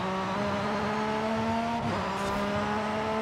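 Steady racing engine drone from a Porsche 911 GT3 R in Forza Horizon 5, holding a bright constant pitch with a short dip like a gear change partway through, loud and continuous with no voices.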